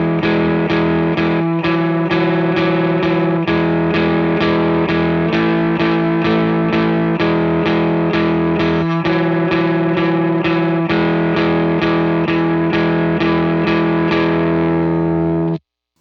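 Slow, dry distorted electric guitar picking a simple worship part, with steady repeated notes and sustained chords close and loud, played without delay or reverb, no voices.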